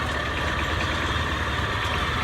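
Steady low rumble of a Kawasaki AR600 motorcycle engine idling nearby, even and continuous with no revving.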